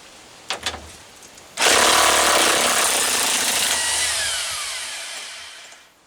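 A power driver fitted with a 9/16 socket backs a long 3/8-inch screw out of a log home addition: a few faint clicks, then a loud sustained motor whine that steadily fades over several seconds before stopping.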